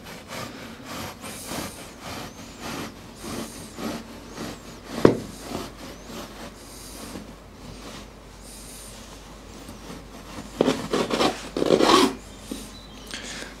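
Soft attic roof insulation is cut during roof insulation work, giving scratchy sawing strokes in uneven bursts at close range, with louder rasping passes near the end.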